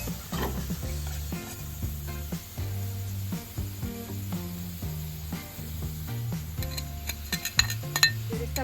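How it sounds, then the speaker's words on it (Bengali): Sizzling in a pan with a steady low hum, punctuated by stirring and a few metallic clinks of a utensil against the pan near the end. "দেখো পেঁয়াজগুলো আমার লাল করে ভেজে নেওয়া হয়ে গেছে"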